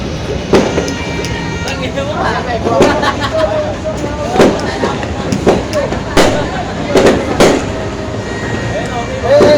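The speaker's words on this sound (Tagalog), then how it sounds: "Pumuputok ba ito yung kay Case?" Firecrackers go off in sharp popping bursts, irregularly, several close together, over a busy background of voices and crowd noise at a New Year celebration.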